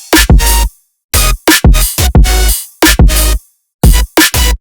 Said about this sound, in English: take a really basic vanilla sounding Dariacore complextro-y like EDM hyperflip drop like this